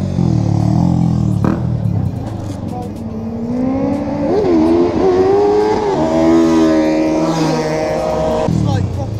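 Yamaha R3 motorcycle engine revving hard, its pitch climbing and falling in several loud throttle blips close by, with people talking over it.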